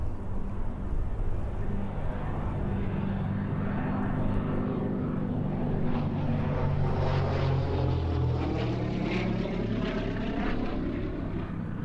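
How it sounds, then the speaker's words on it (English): A Gloster Gladiator biplane, built in 1938 and kept airworthy by the Shuttleworth Collection, drones past at an airshow at Duxford, its radial engine and propeller a steady rumble that swells and fades as it flies by at a distance. "The Shuttleworth Collection Gladiator is the only airworthy Gloucester Gladiator in the world."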